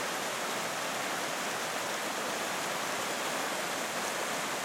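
Steady rushing water of creek rapids, a dense broadband wash that holds constant and close throughout, with no voices or other sounds over it.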